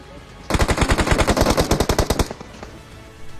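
A rapid burst of automatic gunfire in the video game PUBG, about twenty evenly spaced, loud, sharp shots over nearly two seconds, followed by quiet.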